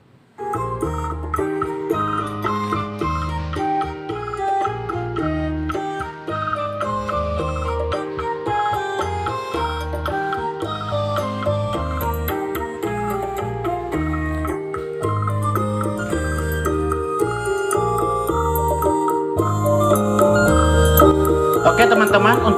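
Full-band music plays through a Sharp CBOX-DPRO22CB active speaker at normal settings with no equalizer adjustment, dense and steady with punchy bass, filling the room at a constant loud level and swelling slightly near the end.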